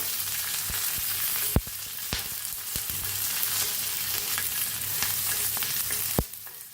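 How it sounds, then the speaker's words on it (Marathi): Green chillies, peanuts and garlic frying in oil for a rustic chilli chutney, a continuous loud sizzle punctuated by a few sharp knocks as the pan is stirred, heard up close with no voices. "मस्त भाजार आले आपल्या मिरच्या शेंगदाणे लसूण आता याला हलवून घेऊया"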